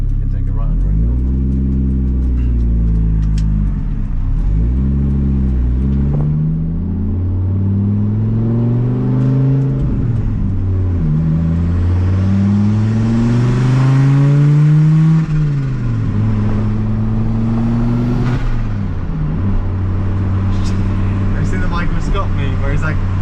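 An Audi B5 S4 with a swapped AAN five-cylinder engine pulls through the gears inside the car, loud revs rising and falling repeatedly between shifts with wastegate sounds, while people talk over it.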